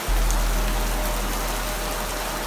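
Steady rain falls at a tropical island setting in Thailand, a dense continuous hiss of drops hitting surfaces, fairly loud and close, with no voices over it.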